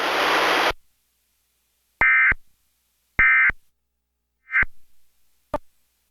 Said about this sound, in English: The following tones will conclude the test.